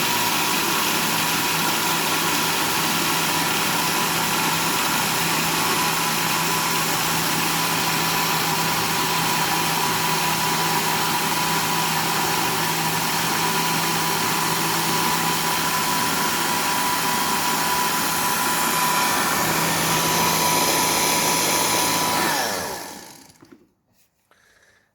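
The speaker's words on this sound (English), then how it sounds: "Place them in the bowl, of course, and bring them to a fine grind." Crushed cashews being ground fine in a bowl for Lebanese baklava, heard as a steady, loud motorized whir that runs without pause for about twenty seconds and then cuts off abruptly, with no talking.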